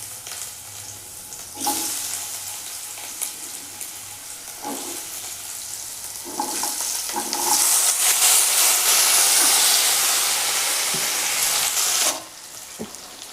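Cut pumpkin hits hot oil with nigella seeds, rising into a loud, steady sizzle and hiss, with occasional knocks and stirring scrapes before the frying noise cuts back near the end.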